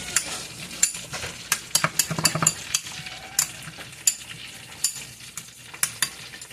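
A utensil clicks and scrapes repeatedly against a bowl while mixing a seasoned sauce with salt and pepper for a homemade fish fillet sandwich, steady close taps in an irregular rhythm.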